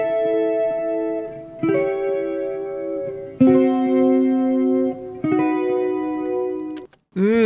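An electric guitar plays four sustained clean notes one after another, each shimmering with vibrato and chorus effects, then a short bent note at the end.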